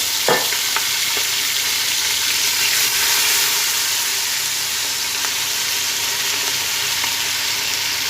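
Vegetables sizzle in a pan alongside roasted rabbit for a Provençal dish, a steady loud frying hiss running throughout with a few brief clinks of stirring near the start.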